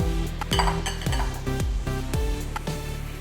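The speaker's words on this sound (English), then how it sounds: "So let's start to mix my fruit salad." A spoon clinks and scrapes against a bowl, mixing fruit salad with condensed milk, shredded coconut and fresh pineapple chunks. The strokes come in a quick, loud, repeated rhythm close up.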